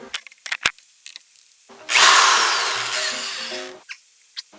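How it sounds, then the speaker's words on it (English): A power drill bores a hole in a Sunn Spectrum 1 amplifier in one loud, steady burst of about two seconds, slowing slightly under load, with clicks and handling noises around it. "Put a drill bit in here."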